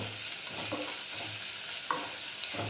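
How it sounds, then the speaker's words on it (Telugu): Ginger-garlic paste with ground coriander and cumin frying in a pan for vegetable masala rice, a steady soft sizzle with a few stirring scrapes and light clinks, close by and with no talking. "ఇప్పుడు అల్లం వెల్లుల్లి, మనం ధనియాలు జీలకర్ర కలిపి వేసుకున్న పేస్ట్ వేసానండి."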